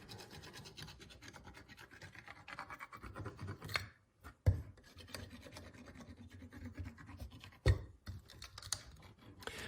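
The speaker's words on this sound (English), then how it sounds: "I'm going to use one of my metal embossing stylus, and I am just going to polish this down." Metal embossing stylus burnishing metal tape on a repurposed Rolodex, a close dry rasping rub that runs steadily with short pauses and a few sharp taps near the middle.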